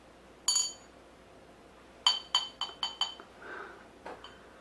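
Small glass vial from inside a glow stick clinking, a short chime followed by a quick run of five sharp clinks and a couple of fainter taps, close and alone in a quiet room.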